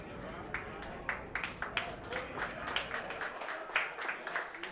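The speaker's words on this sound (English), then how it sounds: "The golf course applause, well earned." A small group on a racing talk show offers quiet, polite golf-course-style applause, with sparse, individual claps pattering softly at an even pace.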